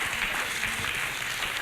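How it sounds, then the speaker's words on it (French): Audience applause at a fashion show, a continuous wash of clapping from a crowd, fairly even and moderately loud without talk. "on applaudit pour lui"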